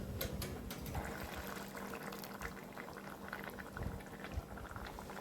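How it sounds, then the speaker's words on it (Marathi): Chawli, brinjal and potato curry simmering in a pot on a low gas flame, with a steady close bubbling and gurgling that carries on evenly and alone, with no talk over it. "बारीक गॅसवरती भाजी आरामशीर तुमची पाच ते सात मिनटात शिजून जाईल"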